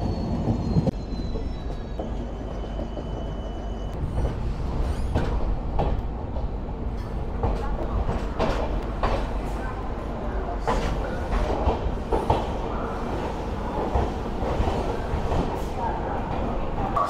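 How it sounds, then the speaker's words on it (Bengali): The Sealdah–New Delhi Rajdhani Express rolls into Dhanbad station in Jharkhand, heard from inside a first AC coach as a moderate rumble with scattered clanks and knocks that continue throughout. "আমরা এখন এই মুহূর্তে ঝাড়খণ্ড রাজ্যের ধানবাদে ট্রেন প্রবেশ করলো"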